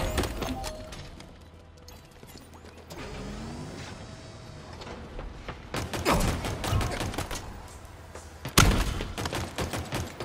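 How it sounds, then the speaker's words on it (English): Video game gunfire in the form of rapid sharp bursts, loud and close, with a clustered volley late on and a heavy single blast near the end, over quieter background game noise. "Taking fire"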